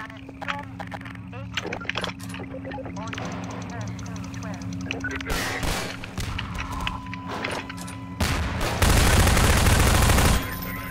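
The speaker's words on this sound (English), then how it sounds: "Riddling them with bullets works." Half-Life 2 gunfire crackles in scattered shots and bursts across the stretch, building to a dense, loud roar near the end, while a person talks over parts of it.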